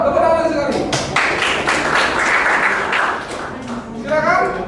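Applause from a classroom audience after a group presentation at a teaching-practice session, a dense burst of clapping swelling through the middle, with children's and adults' voices around it.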